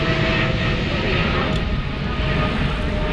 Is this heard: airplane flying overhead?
yes